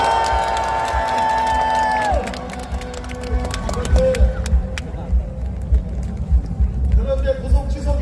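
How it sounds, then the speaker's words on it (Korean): A large outdoor crowd at a political rally bursts into loud cheering and applause, with a steady roar that settles into sustained clapping and scattered shouts; a speaker's amplified voice is heard over it at the start. "여러분 뜨거운 격려의 박수 보내주시기"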